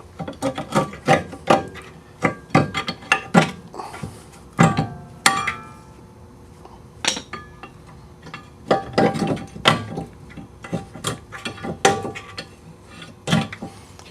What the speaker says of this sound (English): Now we're going to pry the brake pads out of the carrier, away from the rotor.